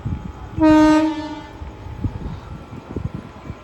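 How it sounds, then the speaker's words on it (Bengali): A loud, sustained train horn blast, followed by the rumbling, clattering wheels of the Nabadwipdham–Balurghat Express (train 13431) rolling slowly into Azimganj Junction. "নবদ্বীপধাম বালুরঘাট এক্সপ্রেস ঢুকছে আজিমগঞ্জ জংশনে"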